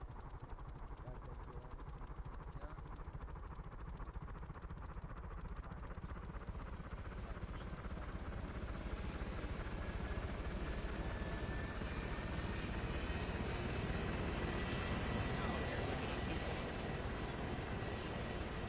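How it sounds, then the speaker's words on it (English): A helicopter in a video game spooling up, its turbine whine rising steadily in pitch over a loud, continuous rotor and engine drone that fills the whole stretch. "Yeah, I can't hear anything over the chopper,"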